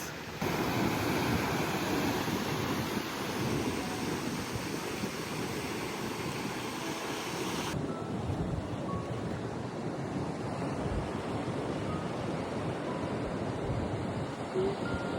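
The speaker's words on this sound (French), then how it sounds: "Là, il y a des vagues de fou." Big ocean waves breaking at Cape Verde, a continuous loud roar of surf with wind buffeting the microphone, steady and close, with no talking.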